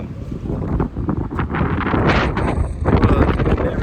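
Strong gusts of wind buffet a handheld microphone outdoors, a loud, continuous rumbling roar that swells and surges without letting up, with no talking.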